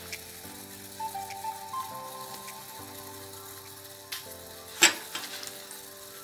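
Sour fish soup with madan leaves bubbles in a pot, with a faint, soft simmering hiss under a low tonal hum, broken by a few sharper clinks and splashes near the end, no speech.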